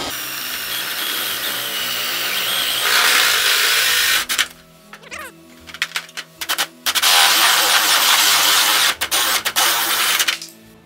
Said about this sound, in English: I can come in from the outside and drill my 5-inch hole through